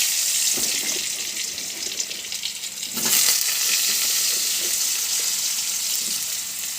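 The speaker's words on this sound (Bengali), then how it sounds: "আলুটা আগে একটুখানি ভেজে নেব" Potatoes frying in a pan give a steady, close hiss of sizzling oil, with a brief surge of louder spitting partway through and a few faint knocks underneath.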